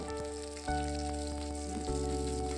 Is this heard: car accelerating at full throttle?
no